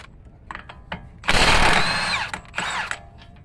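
A power tool spins off the axle center nut on a Honda Fit, with a loud whirring burst after a few short clicks, then a second briefer whir, close up.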